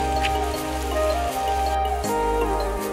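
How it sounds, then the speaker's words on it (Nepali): Steady rain patters on a surface, a constant close hiss with a low hum running underneath throughout. "यस्तो गर्मी पानी पर्यो"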